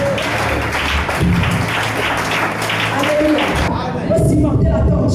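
A church congregation applauds in a steady, dense wash of clapping through a worship service, with voices calling out over it before the clapping thins toward the end.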